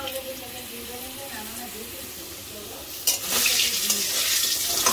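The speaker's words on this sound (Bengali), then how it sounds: "ঝটপট করে আলু ভাজা হচ্ছে, মাংসের আলু।" Potato pieces frying in oil for a meat curry: a soft sizzle under a voice talking, then a much louder, sustained hiss as the frying picks up near the end.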